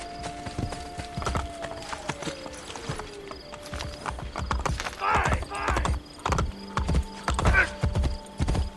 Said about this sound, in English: Can I get a different horse?